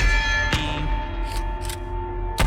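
Metal bells in the video game The Gallery ring out when struck by flares, two sharp strikes with a long sustained tonal ring between them, loud and without speech.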